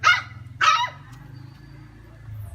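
A chained village dog in Tana Toraja barks twice in quick succession, close and loud, with a short pause between the two sharp yaps, followed by quiet with a low background hum.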